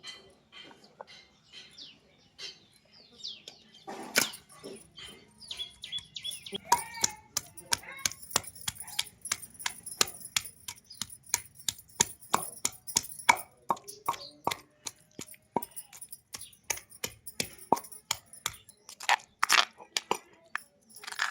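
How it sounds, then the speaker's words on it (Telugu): Dried red chillies, peanuts and mango pieces pounded in a stone mortar: repeated sharp thuds, dense and fairly regular, with gritty crunching between strikes and birds chirping faintly in the background. "ఎండుమిరగాయలు ఎరుశనగుళ్ళు అయితే కొట్టేసుకున్నానండి కుందులో"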